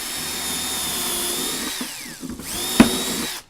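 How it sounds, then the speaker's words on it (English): A power drill whines steadily while boring through material, the pitch dropping as it bites, then a sharp knock before it cuts off. "I'm going to drill this all the way through."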